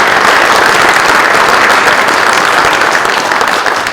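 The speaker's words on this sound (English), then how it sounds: "can we have a big round of applause for all those folks" Loud, sustained applause from an audience at a middle school concert, a thick continuous roar of clapping that stays full before easing slightly at the end.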